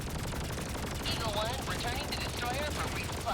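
Rapid bursts of gunfire from the video game Helldivers 2, a dense crackling barrage running steadily throughout at close range, with faint chirping effects layered over it.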